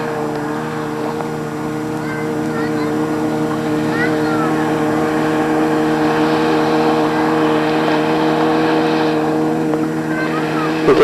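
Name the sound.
motorboat approaching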